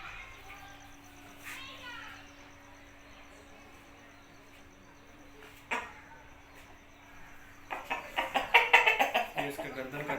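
An aseel fighting rooster clucks in short bursts that build toward a louder, busier stretch near the end, with a steady low hum and faint background voices around it.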